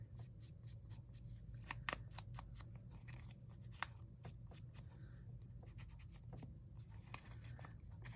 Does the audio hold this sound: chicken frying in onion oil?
no